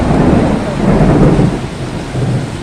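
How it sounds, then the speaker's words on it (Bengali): Thunder rumbles loud and close through a hailstorm, a deep rolling roar over the steady hiss of falling rain and hail, swelling and easing across the moment without a break. "এই দেখো মেঘে মেঘে কিরম বজ্রপাত করছে"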